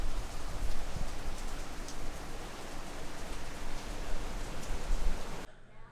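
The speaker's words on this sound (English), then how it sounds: "it started raining." Rain falls steadily on a surface during a vacation day, a close, dense patter that holds at an even level and then cuts off abruptly near the end.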